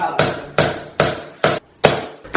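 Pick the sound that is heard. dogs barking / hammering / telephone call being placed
hammering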